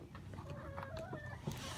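Short, close clucking from chickens at a chicken coop, a few soft bursts and a rising squawk, with no talk.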